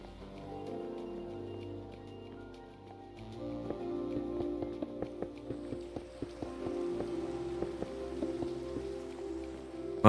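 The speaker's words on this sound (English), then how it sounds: "Well, it just began to rain." Rain falls in Minecraft, pattering steadily on surfaces at a soft, moderate level, with a low ambient tone underneath and scattered sharper drops.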